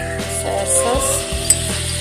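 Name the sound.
soy sauce added to hot pan, sizzling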